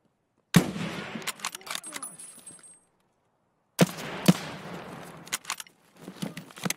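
Gunfire in the video game Escape from Tarkov comes in two sharp bursts of shots separated by a short silence, loud and close, with a few clanking sounds trailing after.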